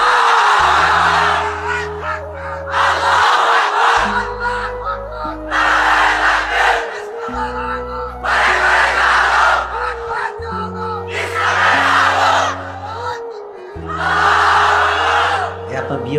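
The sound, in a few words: crowd shouting takbir (Allahu Akbar)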